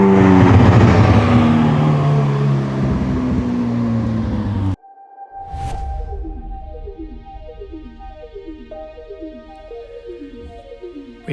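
A McLaren 600LT supercar driving through London, a loud engine roar under acceleration that cuts off abruptly, followed by quieter running with repeating gear-like rising tones and a low drone.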